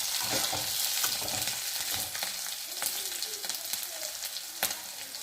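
Capsicum and green chillies sizzle and fry in a pan for pasta, a steady close crackle with scattered pops and some stirring, with no talking.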